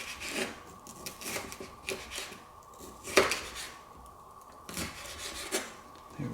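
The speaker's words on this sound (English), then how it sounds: "Finely chop this until we have about a 1/4 cup." A knife finely chops and minces vegetables on a cutting board for Puerto Rican style vegetarian beans, producing irregular scraping taps and rubbing strokes at close range, with a louder clack partway through.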